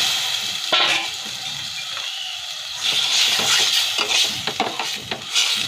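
Fish head frying in a pan with turmeric and chili powder, a steady sizzle with stirring scrapes and a few sharp clinks of utensil against the pan, growing busier toward the end.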